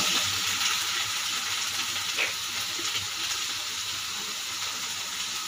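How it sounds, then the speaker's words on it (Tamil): Tomatoes and green chillies sautéing in a pan of oil, a steady close hiss and sizzle with faint scraping, continuous and even without talk. "தக்காளி போட்டுங்க, பச்சை மிளகாய் போட்டுங்க. நல்லா வதக்கி விட்டுருங்க."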